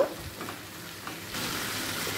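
Steady sizzling of onion, capsicum and tomato frying in a pan, a soft crackle that grows a bit louder and denser midway, with no voices.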